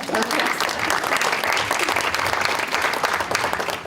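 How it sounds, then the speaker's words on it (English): Audience applause after a presentation on Cook County government at a League-hosted forum, a steady, dense wash of clapping that holds loud and even for the whole stretch. "I think she deserves a round of applause"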